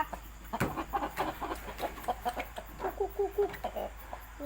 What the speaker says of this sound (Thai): แล้วก็เป็น ไก่ลูกของหมาก หมากเชิงชนดีครับ